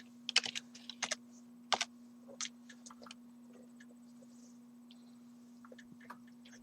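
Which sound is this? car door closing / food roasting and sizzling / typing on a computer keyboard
typing on a computer keyboard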